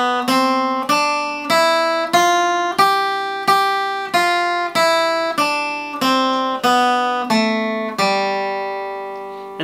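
Plucked acoustic guitar notes walking up and then back down the fourth string, about a dozen evenly spaced single tones, each ringing clearly and fading before the next, played alone.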